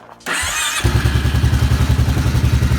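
A V-twin motorcycle engine, just after timing-belt replacement, cranks and catches, then settles into a loud, close, loping idle with a regular uneven thumping rhythm.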